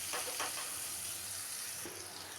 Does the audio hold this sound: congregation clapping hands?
no